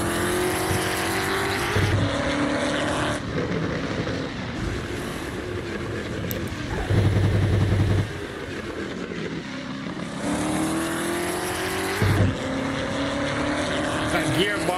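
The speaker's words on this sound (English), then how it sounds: "That gearbox is just screaming," American muscle car in Assetto Corsa, engine roaring hard and continuous with rising revs, gearbox whine and sharp gear-change bangs, loud throughout with a voice talking underneath.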